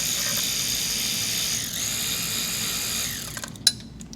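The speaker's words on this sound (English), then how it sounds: "East Volt cordless ratchet for the win." An East Volt cordless ratchet whirs steadily for about three seconds while removing cover bolts on a Honda CB550 motorcycle, then stops, followed by a few small metallic clicks.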